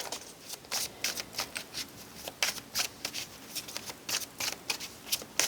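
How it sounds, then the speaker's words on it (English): A deck of tarot cards is shuffled close up, making a quick series of crisp, papery riffles and slaps in an uneven rhythm. The sound is faint, with no talking. "Let's pull some more cards."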